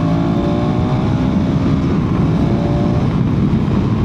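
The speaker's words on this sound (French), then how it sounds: "ce que je vais te montrer maintenant, c'est-à-dire le moteur au-dessus de 5000 tours" A KTM 390 Adventure R motorcycle engine held above 5000 rpm in third gear, a loud, steady, close drone with a constant pitch throughout and no talk.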